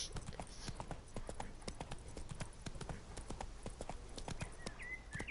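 Roach the horse gallops in The Witcher 3, hooves striking in a quick, steady clip-clop rhythm throughout, fairly close and moderately loud, with no talking over it.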